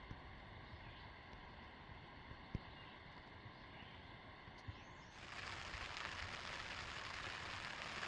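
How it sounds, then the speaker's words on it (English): Rain falling on a tent at a lakeside campsite in the Boundary Waters, a steady soft patter that swells into a denser, louder downpour partway through, with no one speaking. "The rain drove me back under the tent."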